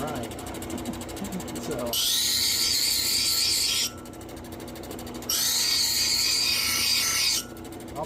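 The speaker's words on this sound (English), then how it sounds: "So we got the initial grinding done" Two sustained bursts of harsh, high grinding, each lasting about two seconds with a gap between them, as a piece of Georgia jasper is ground during fog knapping of a corner tang point. Brief talk comes before the first burst.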